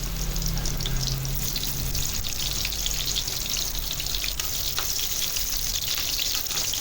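Onion and garlic sauté in a hot pan for corned beef, giving a steady, even sizzle that runs unbroken from start to finish with no voices.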